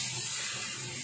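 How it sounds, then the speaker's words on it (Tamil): Oil sizzling steadily in a pan while chicken sambal cooks, a continuous close, bright hiss with no pauses and no talking. "பாத்தீங்கன்னா நல்லா எண்ணெய் வெந்து வருது"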